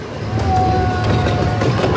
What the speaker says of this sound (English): we're on a train right now